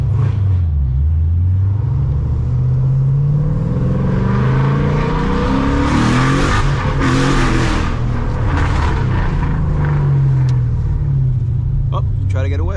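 A Ford Mustang GT with its exhaust cutout open, driven late at night in the city, booms up close as the engine revs climb, peak and fall back. The engine stays loud throughout.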